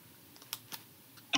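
Keys on a braille display's keyboard are pressed, including a space plus H shortcut, giving a few quiet separate clicks and ending with a slightly louder double press.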